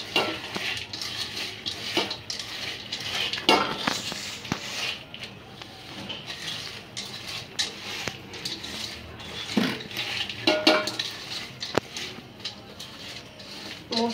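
Masoor dal mixed by hand with spices and oil in a bowl, with soft wet squelching and mashing, plus intermittent clinks and knocks of utensils against the dish.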